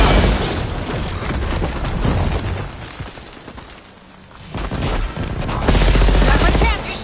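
In-game explosive charges detonate in Horizon Forbidden West, loud heavy blasts and rumbling gunfire-like bursts filling the scene, easing briefly before another powerful, boomy surge of explosions near the end.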